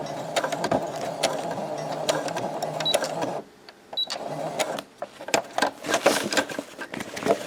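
A sewing machine stitches a lunch bag with a rapid mechanical whir, then pauses briefly before running forward and backward again in short, uneven bursts of clattering, heard up close.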